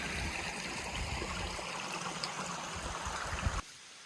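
A stream flows with a steady, close broadband rush of water on a hiking trip, constant and unbroken, then cuts out abruptly near the end, leaving quiet.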